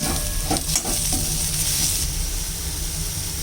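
Cumin, red chili and turmeric hit hot oil in a frying pan for a jackfruit dish, with a loud continuous sizzle and a few stirring scrapes early on.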